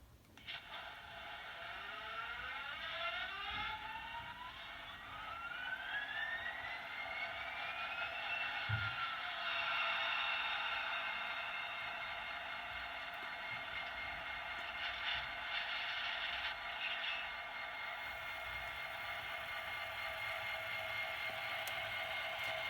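An HO scale Broadway Limited SD40-2 model locomotive runs its sound start-up sequence. A faint diesel rumble rises and settles into a steady drone with a climbing whine, heard from a small onboard speaker.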